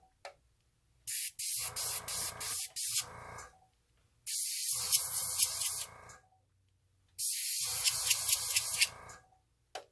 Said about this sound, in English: I'm just putting down a drop and running the airbrush up and down